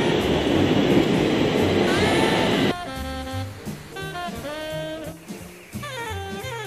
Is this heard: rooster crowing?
no